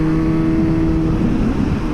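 A Suzuki GSX-S 750 motorcycle engine gives a steady drone with a slight rise in pitch as the throttle opens to about 4,500 rpm, loud and close throughout, with no talking.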